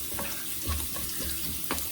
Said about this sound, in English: I add cilantro in the hot oil because it brings lot of flavor